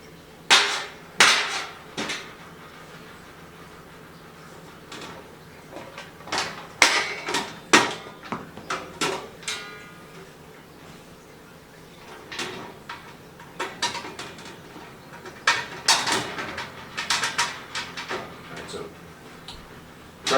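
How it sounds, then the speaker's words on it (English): Screws driven into a galvanized metal elevated garden bed produce a series of sharp, loud clanks and knocks at irregular intervals, close by, with quieter gaps between bursts and some talking. "Trying to get screws through. I'm making a lot of noise."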